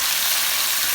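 Salad greens wilting in a hot frying pan, giving a loud, steady, close-up sizzle that hisses without pause and with no voice over it.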